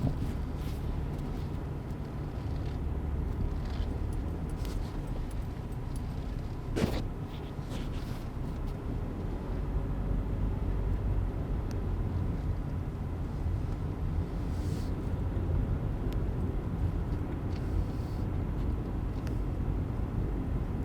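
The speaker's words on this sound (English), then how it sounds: "So I'm driving up in front of the hospital." A car drives slowly up to the front of the main hospital building at Trans-Allegheny, with a steady, close low engine and road rumble throughout and no voices.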